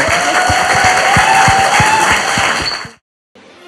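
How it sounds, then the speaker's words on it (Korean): A studio audience on a Korean talk show claps in a brisk, even rhythm, loud and close, before the applause cuts off abruptly into near silence. "박수 부탁드립니다"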